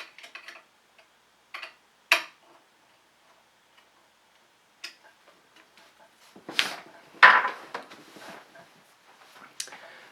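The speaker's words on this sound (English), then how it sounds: "install the belt guard, which we do by removing these two screws" A screwdriver works out two screws on a Sailrite Ultrafeed LS-1 sewing machine, heard as sparse, faint ticks and small metallic clicks with quiet gaps, then a few louder close clinks and rattles near the end.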